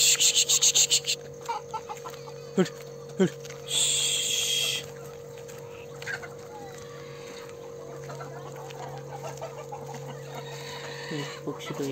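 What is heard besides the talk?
country chickens clucking at farm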